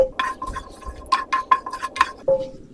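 Whole spices (bay leaves, black and green cardamom, cloves and black peppercorns) are stirred in a pan for Kashmiri dum aloo, with a utensil scraping and clinking against metal in short, uneven strokes.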